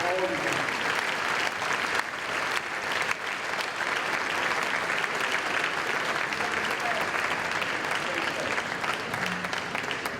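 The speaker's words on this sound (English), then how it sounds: "Applause for all of you guys." Sustained audience applause fills a sports awards reception, a dense steady wash of many hands clapping at close range, with faint talk buried underneath.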